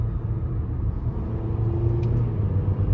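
A 2017 Toyota Corolla SE on the move, a steady low engine drone and road rumble heard from inside the cabin, even in level and unbroken throughout.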